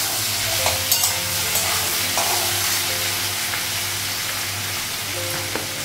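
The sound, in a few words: frying in a pan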